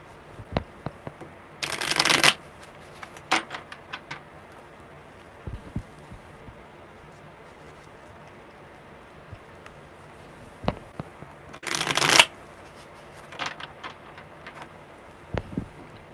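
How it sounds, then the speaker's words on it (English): Tarot cards are shuffled by hand in two quick riffling bursts, crisp and close, separated by quiet stretches with soft taps and handling noises in between. "I'm going to do one more good shuffle"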